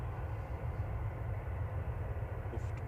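A Lufthansa Airbus A320neo arriving from Munich at Manchester Airport, heard as a quiet, steady distant roar with a broad rumbling low end that stays even through the short stretch.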